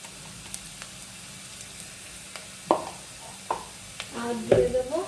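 Onion frying in a pan with turmeric, heard as a low, quiet sizzle broken by a few sharp utensil scrapes and clinks that grow busier toward the end, with a brief murmur of voice.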